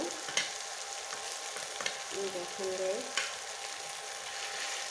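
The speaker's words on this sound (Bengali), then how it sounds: "এটাকে ভালো করে এখন ভেজে নেব।" Hilsa fish tail pieces fry in a pan with a steady, faint sizzle and occasional stirring clinks, while one brief spoken word drifts over the cooking.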